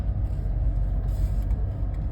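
A Honda Street kei van drives along a residential block, its small engine giving a steady low rumble and road drone from inside the cabin, with faint rattles on top.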